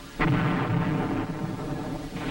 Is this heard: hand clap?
no